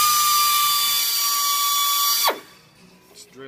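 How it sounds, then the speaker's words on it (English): A power drill bores through a stuck bolt on the oil pan of a 2007 BMW 335i, a loud sustained high whine that stops abruptly midway, then a brief rattle and faint handling noises. "It's drilling through."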